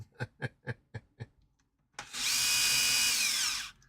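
Power drill driving a screw into plastic on a model crawler build: a short run of quiet clicks and taps, then one steady high whine lasting about two seconds before it stops.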